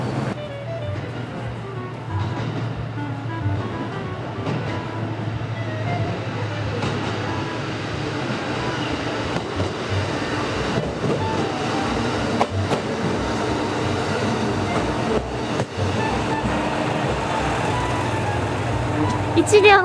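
A single-car Echigo Tokimeki Railway train rolls along steadily with a low rumbling drone and rattling, while a voice talks over it for most of the stretch.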